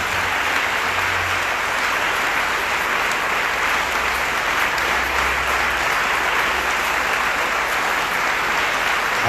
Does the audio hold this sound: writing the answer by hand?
no